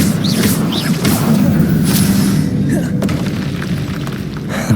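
A fiery Incendio spell blast in Hogwarts Legacy, a loud rumbling boom with dense low-end roar that sustains for several seconds amid combat noise.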